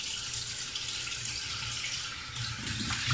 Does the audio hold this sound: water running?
yes